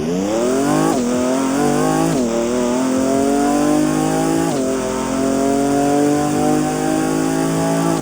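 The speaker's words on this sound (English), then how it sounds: "I'm actually glad that they tried to make it sound like the actual one and not copy paste the V12 sound from a Lamborghini." Aston Martin 7.3-litre V12 in the Apex Racer video game revving hard, loud and close, climbing through several gear changes with brief dips between shifts.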